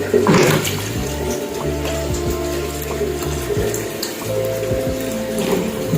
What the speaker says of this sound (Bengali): এই কৌটোর মধ্যে জল দিয়ে দেবো পরিমাণ মতো জল দিয়ে দিতে হবে